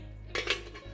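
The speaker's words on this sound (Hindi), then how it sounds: "इसका बस लिड लगा देंगे।" The metal lid goes onto a pressure cooker of yellow moong dal with a brief, close clank and a short rattle of metal against the pot in a quiet kitchen.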